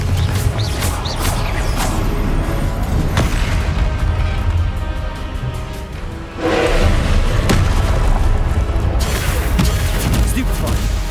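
Confringo blasting spell explosions in Hogwarts Legacy combat during Rookwood's trial, with loud thuds and booms over a dense, busy game mix of spell effects.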